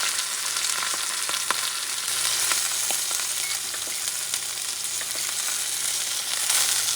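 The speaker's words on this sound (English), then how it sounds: "Let's sear this roast on all sides until you got that dark golden crust." A beef roast for Puerto Rican carne mechada sears in a hot pan, a continuous close sizzle and crackle with scattered sharp pops and spits throughout, no talking.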